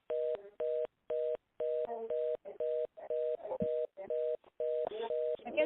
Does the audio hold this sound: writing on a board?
no